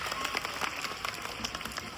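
An audience applauds to welcome Abhijit on stage, a soft, steady patter of many hands clapping at a distance, with no voices over it.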